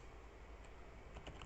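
Keys tap on a computer keyboard while coding JavaScript, a quiet, quick cluster of clicks near the end of a short stretch of low room hum, with no one talking.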